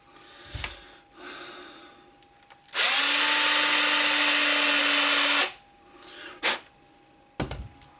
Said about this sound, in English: drilling out with the biggest drill bit you've got